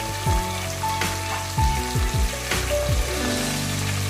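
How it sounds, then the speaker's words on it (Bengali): Light stirring in a pan of a mustard-paste dish with lentil fritters over low heat: soft scraping strokes and a few clinks against the pan under a steady gentle sizzle, close and moderate in level, no voices. "হালকা নাড়াচাড়া করে নিচ্ছি"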